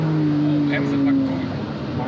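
A BMW M3 engine blips and drops through gears under braking, rising revving tones sliding downward over steady road roar, close and loud, with a person talking over it.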